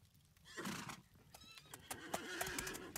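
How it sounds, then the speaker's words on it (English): In the survival video game Scum, a horse whinnies loudly and close, followed by clip-clopping hooves and shorter snorts and neighs. "Let's spawn a horse in."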